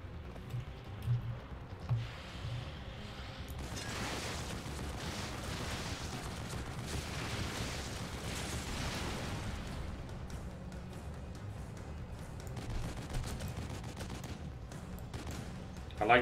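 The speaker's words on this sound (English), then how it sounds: "I've got to get my hands on that machine gun." Sustained machine gun fire in The Evil Within, a dense continuous rattling barrage that runs loud for most of the stretch, with brief louder bursts near the start and end.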